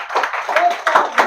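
Students in a classroom clap together briefly, a loud, uneven burst of hand claps lasting about a second, with a voice briefly heard among them.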